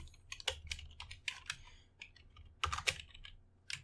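Keys clatter on a computer keyboard at a desk during a Python coding session, with quick bursts of taps and short pauses between them. The typing is fairly quiet and close, and no one speaks.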